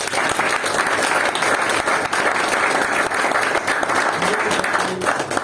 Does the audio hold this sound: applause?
yes